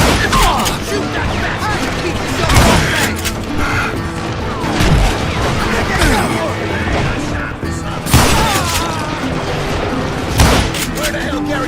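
Gunfire in the video game Call of Juarez Gunslinger, repeated loud shots and impacts scattered over a dense battle soundscape with music and character voices talking throughout.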